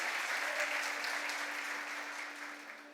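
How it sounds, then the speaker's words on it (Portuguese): A church congregation applauds the worship group at a thanksgiving service, steady dense clapping filling the room and slowly tapering toward the end, with a faint steady hum underneath. "Uma salva de palmas também para esse grupo"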